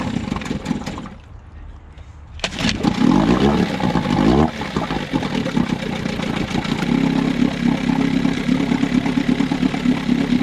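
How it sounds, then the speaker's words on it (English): A repaired outboard boat engine is started after a short pause and then runs, settling into a loud, steady mid-pitched idle with a rattly edge. It sounds close and continuous. "Motor runs good, no issues."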